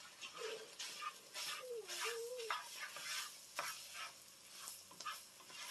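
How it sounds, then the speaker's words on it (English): Pork fried rice with peas and eggs is stirred in a hot pan, bursts of scraping and gentle sizzling in short irregular strokes, fairly quiet and close, with a brief faint animal whine in the background. "keep stirring it until all the rice turns brown"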